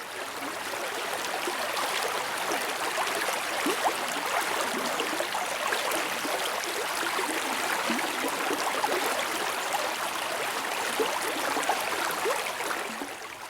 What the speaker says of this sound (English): The water gently rolling over the rocks